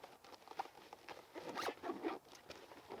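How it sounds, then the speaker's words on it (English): A zipper drawn closed on the carry bag of a Nemo Stargaze reclining camp chair, a series of close, raspy zipping strokes lasting about three seconds, with no talk. "basically now you just zip it up"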